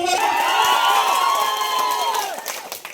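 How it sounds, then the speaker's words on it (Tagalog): Crowd at a feeding event cheering and shouting with scattered applause, a loud, dense roar with high voices and whoops that tapers off toward the end. "sinataas na palakpakan, hiyawan"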